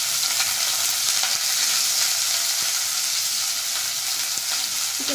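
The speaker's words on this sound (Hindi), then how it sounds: "प्याज को टिके भाजी नेबा।" Chopped onions frying in hot oil for an Odia potato dish, a dense, even sizzle throughout with a few faint clicks of stirring, no voices.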